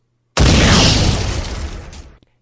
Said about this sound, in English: Isaac had tied rags over his ears to protect from the deafening blast of the cannon